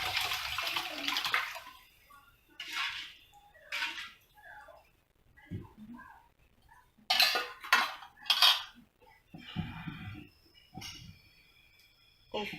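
Water is poured into a pan of tempered rasam with curry leaves, giving a hissing, splashing rush at first, then intermittent sizzles, clinks of a metal utensil against the pan and further pours, close up.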